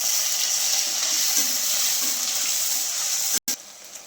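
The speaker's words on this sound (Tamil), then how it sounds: "எல்லாம் வதங்கிச்சிங்க வெங்காயம் தக்காளி." Small onions and tomatoes sauté in a pan for a garlic kurma, making a loud, continuous hissing sizzle with a brief sharp break near the end and no voices.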